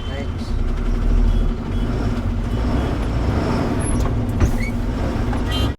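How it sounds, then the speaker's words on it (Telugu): Heavy traffic jam on a narrow road with cars parked along the left side: a steady, close rumble of idling engines and slow-moving vehicles fills the whole stretch without a break. "చూడు రే ట్రాఫిక్ జామ్ ఎట్లుందో,"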